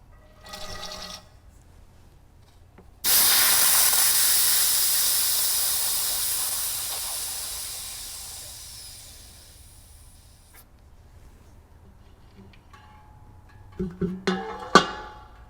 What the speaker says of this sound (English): Go ahead and start pumping fluid inside.